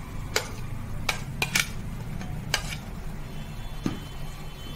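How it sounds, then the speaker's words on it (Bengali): Raw jackfruit and lentil pakora batter with chopped onion and spice paste being mixed by hand, giving faint scattered ticks and clicks over a low background hum, with no talking. "এবার ভালো করে একসঙ্গে সব মিশাবো।"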